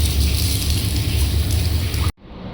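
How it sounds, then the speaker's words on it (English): A steady, close hiss of water sprays onto a dirty air conditioner filter for about two seconds before cutting off abruptly, leaving quiet room tone. "So we will clean with the spray of water."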